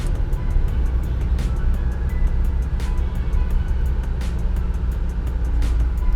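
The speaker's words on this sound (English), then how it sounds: "Hopefully the engine doesn't boggle out." A car drives along a road, its engine and tyres making a loud, steady low rumble throughout, with faint periodic ticks over the drone.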